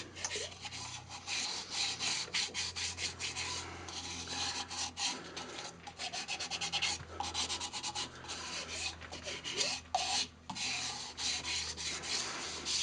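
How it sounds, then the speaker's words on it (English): Sandpaper rubs by hand against a wooden bandsaw box held on a stopped lathe, a close, raspy scratching in uneven back-and-forth strokes with brief pauses, and no talking. "I'll turn it off and hand sand it."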